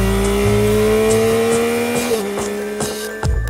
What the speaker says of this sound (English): enveloping them in the MT-09's grin-inducing exhaust sound.